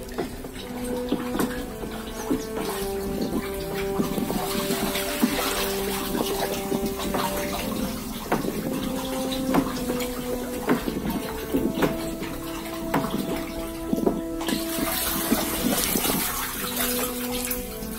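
Water being poured into a waste decomposer container, a continuous splashing gush that stays steady and fairly loud for the whole stretch, with faint background hum.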